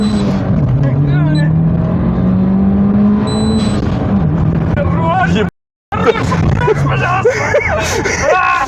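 Car with a 3S-GTE engine revving and launching from 3000 rpm, a loud rising engine howl with a brief cut before revving resumes, with people talking over it.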